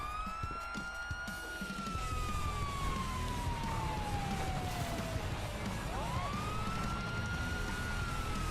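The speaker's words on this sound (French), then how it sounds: "Vous entendez des sirènes." A police siren in GTA roleplay wails continuously, its pitch sweeping slowly down then back up, loud over a low rumbling engine background.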